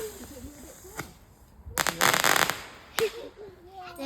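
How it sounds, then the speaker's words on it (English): Bonfire night fireworks crackle and pop close by in sharp bursts, one dense crackling cluster followed by a single loud pop, with faint voices underneath. "Quite scary when they crackle and pop on the floor."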